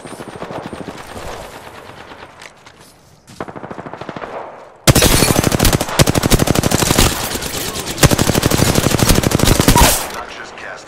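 Automatic gunfire in Apex Legends starts as quieter, spaced rapid bursts, then turns into loud sustained rapid-fire shooting for several seconds before tapering off.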